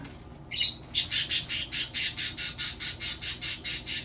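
Birds squawk loudly in a rapid, regular series of harsh repeated calls, a dozen or more evenly spaced bursts close by, with no talking.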